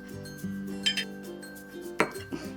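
Hot and sour soup ladled into a bowl, with several clinks of a ladle against the pot and a sharp ceramic knock near the end, close and moderately loud over a faint steady hum.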